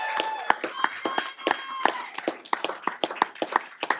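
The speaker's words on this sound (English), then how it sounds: "let's give them again a big round of applause" An audience at a city council meeting claps for a junior cheer team of national champions, a sparse scatter of nearby hand claps with voices talking through it.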